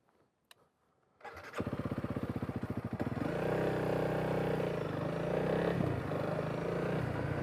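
A Honda CRF300L motorcycle engine cranks after a brief quiet moment, catches with a rapid chugging pulse, and then settles into a steady, loud, close idle with no talking.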